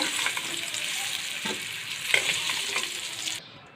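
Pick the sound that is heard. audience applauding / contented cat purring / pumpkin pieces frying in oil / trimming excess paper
pumpkin pieces frying in oil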